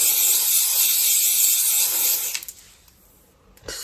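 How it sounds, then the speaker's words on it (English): Cheap aerosol hairspray hisses in one long steady burst onto slicked-back hair, close and loud for about two seconds before cutting off, followed by a couple of faint rustles. "then literally the cheapest hairspray that I can find at the time,"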